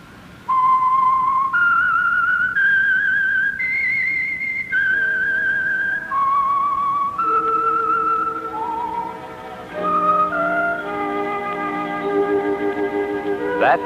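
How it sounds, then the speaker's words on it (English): A lone whistled melody, clear and steady, stepping through a slow tune of held notes, ending as a soft orchestral backing swells underneath. "That whistle is your signal for the Signal Oil program"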